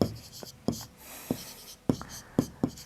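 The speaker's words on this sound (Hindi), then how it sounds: "तो हम लिखेंगे" Chalk or pen taps and scratches out an answer during a class six maths lesson on angles, with sharp, irregular strokes at close range, roughly eight distinct knocks spread over three seconds, with no talk over them.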